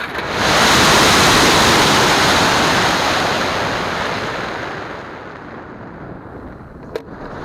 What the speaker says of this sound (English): So as you saw, the rocket's now flown as a water rocket.